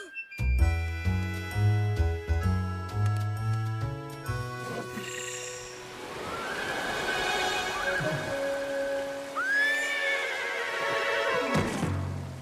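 A horse whinnies loudly in a cartoon along an Old West trail, its rising call standing out over a busy musical backdrop, with steady clip-clop hooves running beneath.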